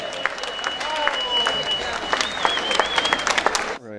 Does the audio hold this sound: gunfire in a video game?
no